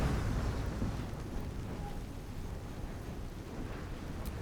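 A Thunder Wave spell blast in the Baldur's Gate 3 video game, a loud rumbling boom that fades into a sustained noisy roar lasting several seconds, with no talking over it.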